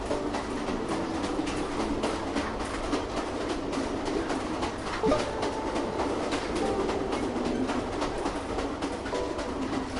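Train rolling along rails in the video game The Final Station, a continuous dense rumble with rhythmic clicking of wheels, steady and fairly loud, no talking.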